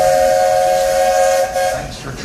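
Walt Disney World Railroad steam train arriving, its whistle blowing a loud, sustained multi-tone blast for about a second and a half before cutting off, followed by faint rumbling.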